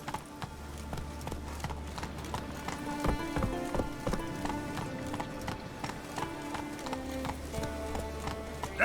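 Roach, the horse in The Witcher 3: Wild Hunt, gallops with a steady, rapid clip-clop of hooves under game music and ambience, close and continuous throughout.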